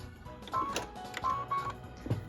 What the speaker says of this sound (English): what we're stitching right now is the decorative stitch for the star pattern on our barn quilt